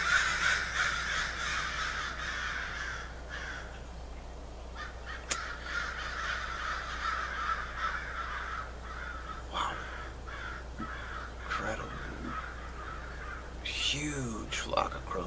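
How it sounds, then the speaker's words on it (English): A large flock of crows caws repeatedly over a constant low hum, the harsh calls overlapping and rising and falling throughout, some nearer and louder toward the end, while someone talks over them. "Huge flock of crows."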